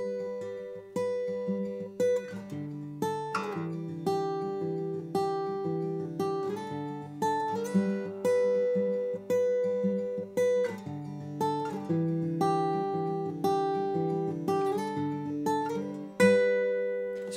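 Guitar playing Counting My Blessings by Seph Schlueter, a steady picked pattern of ringing notes and repeated chords with a regular rhythm, close and clear with no talking.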